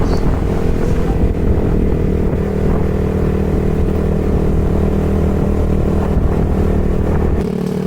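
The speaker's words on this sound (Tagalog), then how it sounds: "CB 400cc ata yan na Honda." A Honda CB 400cc motorcycle idling and running nearby, a loud, steady low engine rumble that holds for the whole stretch with a slight change near the end.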